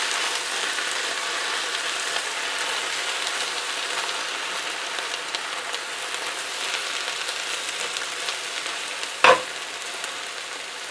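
Chicken enchilada mixture sizzles steadily in a skillet while being stirred, a constant close frying hiss with one sharp clack of the utensil against the pan near the end.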